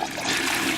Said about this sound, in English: Okay, we're flushing her.